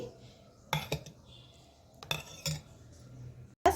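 Dosa batter for uttapam being mixed with a spoon in a vessel, a few distinct clinks and scrapes of metal against the container over a quiet background, near.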